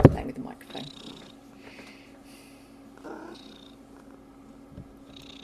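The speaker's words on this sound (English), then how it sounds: "the cat's playing with the microphone." A house cat purrs with a low, steady rumble close to the microphone while pawing and bumping it, making a few muffled thumps and rustles. Faint speech can be heard in the background.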